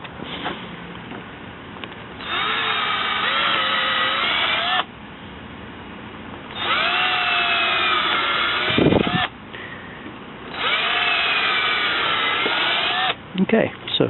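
A power drill bores pilot holes in a wooden stockade fence gate in three separate whirring bursts of a couple of seconds each, the motor pitch rising and settling, with quieter pauses between.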